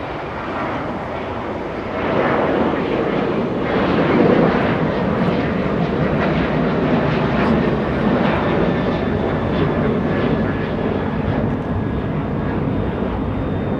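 An Alaska Airlines plane at Los Angeles International Airport roars with a steady, loud engine rush that swells slightly and holds for the whole stretch, with no voices.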